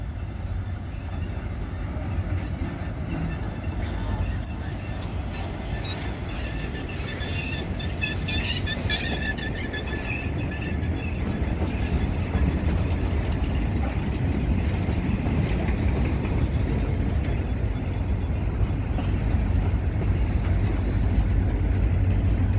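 A CSX local freight train rumbles steadily past, with heavy low rolling noise, wheel clatter and faint squealing that slowly grow louder.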